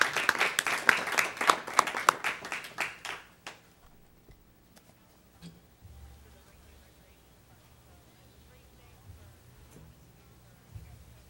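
Audience at a youth commission presentation on homelessness clapping briefly after a talk, a dense burst of applause that quickly thins out and fades, leaving quiet room noise with scattered soft knocks.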